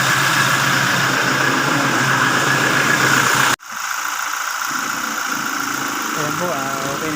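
A 2019 Toyota Hilux engine idles after its EGR valve has been cleaned. A loud, steady running drone cuts out abruptly midway, then continues more quietly as a lower rumble, with people talking nearby.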